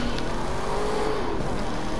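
A car drifting in The Crew 2 racing game, its engine holding a steady, loud drone with a slowly bending pitch across two seconds, with no voices over it.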